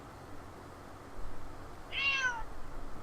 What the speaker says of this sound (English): Apologies about the rude cat.